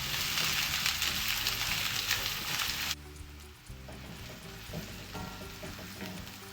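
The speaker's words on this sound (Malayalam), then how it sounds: "ഉള്ളി ഗോൾഡൻ ബ്രൗൺ ആവുന്നത് വരെ നമുക്കിതിനെ ഫ്രൈ ചെയ്യണം" Four sliced shallots fry in oil toward golden brown for an egg bhurji, a bright crackling sizzle that drops abruptly to a quieter, softer frying hiss midway, with low humming in the background.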